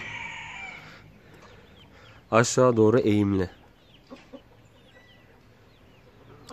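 Chickens in a small coop in a city centre burst into a loud cluster of clucks and squawks for about a second, with someone talking before and after.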